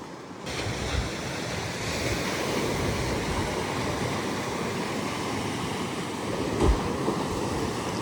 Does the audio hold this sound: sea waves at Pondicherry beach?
yes